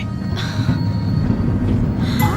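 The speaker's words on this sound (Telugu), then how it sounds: "ట్రైన్ మూవ్ అవుతుంది" A train rumbles along with a steady low roar, wheels clacking and a brief high squeal near the end.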